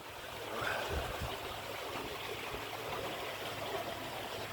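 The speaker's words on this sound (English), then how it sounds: "You can just hear the water down there." Water flows along a stream below a village path in Cerne Abbas, heard as a faint, steady distant rush with a soft trickle and no voices.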